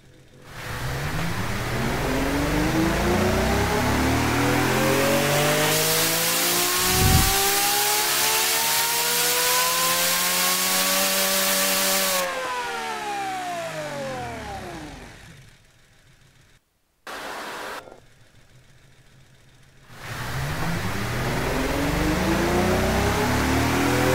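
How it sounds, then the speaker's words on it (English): A 3-litre V12 car engine in the video game Automation revs in long rising and falling sweeps, roaring loud and sustained, then cuts to a quiet idle with a brief dropout before climbing into another rev. "let's see what this thing sounds like"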